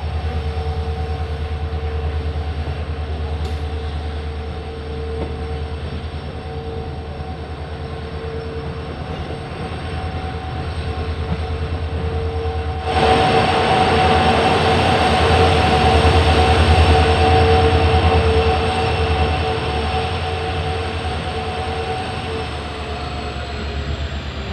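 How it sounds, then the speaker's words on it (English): Passenger train hauled by an EMD diesel locomotive rolls through the night between Bengaluru and Sagara, with a steady rumble of wheels and carriage noise that swells louder and rougher partway through, no voices present. "A tremendous journey behind the EMD locomotive and a beautiful night journey all the way from Bengaluru"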